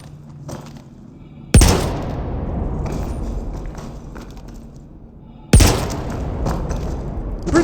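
Heavy gunshots in the Star Citizen video game while enemies are finished off during a criminal nest clearing mission: two loud, booming blasts spaced several seconds apart, each trailing into a rumbling tail.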